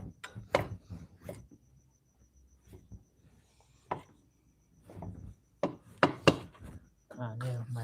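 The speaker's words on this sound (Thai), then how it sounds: "ผมจะหั่นมะเขือเทศก่อนซอยหรือหั่นมะเขือเทศนะครับ" A knife chops tomatoes on a cutting board while Thai fried marinated beef is prepared, giving scattered sharp knocks in short irregular runs, with someone speaking between and over the cuts.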